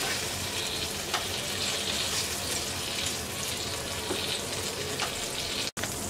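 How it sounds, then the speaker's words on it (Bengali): Green and dried chillies frying in hot oil give a steady, even sizzle that runs throughout, with a short break near the end; no one speaks. "5টা কাঁচা মরিচ আর 4টা শুকনা মরিচ ভেজে নেব"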